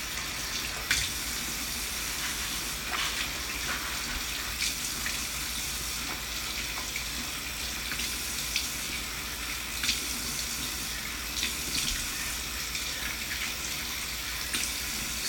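A bathroom tap runs warm water steadily for face rinsing, a continuous hiss and splash close by, with brief splashes as water is scooped and no talking.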